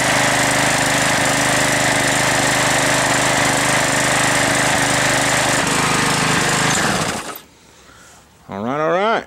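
Small gasoline engine with a freshly cleaned gas tank runs loud and steady with a droning hum, then cuts out abruptly; a brief rising whine follows as it is pulled again.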